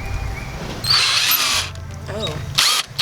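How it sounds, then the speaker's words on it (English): Power drill grinding at rusted bolts on a school bus bumper, in two loud bursts with pauses between, while a person talks over the work. "This drill is definitely burning."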